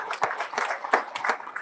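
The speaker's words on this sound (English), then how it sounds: "I thought we would clap." An audience at a university meeting gives brief scattered applause, a short burst of hand claps heard at moderate loudness.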